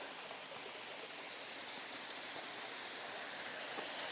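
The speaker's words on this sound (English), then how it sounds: "this is one of the bigger waterfalls." A large waterfall roars in a steady, dense broadband rush, close and unbroken, with no voices.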